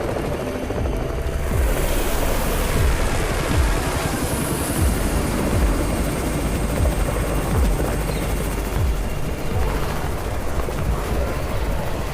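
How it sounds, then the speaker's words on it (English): Rotor chop of a helicopter arriving in the zombie video game Undawn, a loud, steady, rhythmic beating that fills the whole stretch, with a faint high whine and scattered background game noise. "It's the Raven's chopper! We have backup!"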